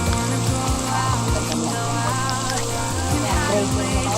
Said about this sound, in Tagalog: Enjoy na lang natin yung ulan